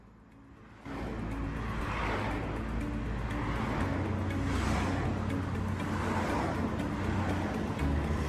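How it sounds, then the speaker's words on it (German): Cartoon road traffic with cars driving along a street, a steady, fairly loud engine and tyre rumble that swells in after a quiet first second and carries on continuously with no talking. "Schau mal, auf der Straße sind so viele Autos unterwegs."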